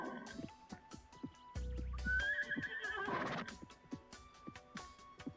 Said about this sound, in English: this like the neigh is very nostalgic